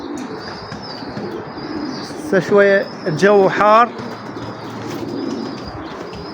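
Pigeons at a home loft give a couple of short bursts of cooing calls close by, set against steady background noise, with a person talking in a low voice over the scene.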